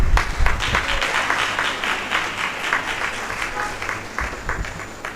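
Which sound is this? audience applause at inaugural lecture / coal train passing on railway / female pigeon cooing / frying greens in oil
audience applause at inaugural lecture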